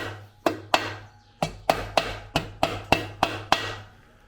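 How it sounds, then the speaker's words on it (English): Ten sharp taps from a rubber hammer strike the hollow metal engine cowling of a 1982 air-cooled VW Vanagon Westfalia in an uneven rhythm, each knock ringing briefly, close and fairly loud. "Then I just tapped it gently with the rubber hammer"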